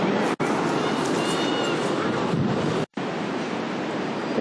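Wind buffeting the microphone over Pacific Ocean surf on the coast, a loud continuous roar of rushing air and breaking waves with two brief dropouts.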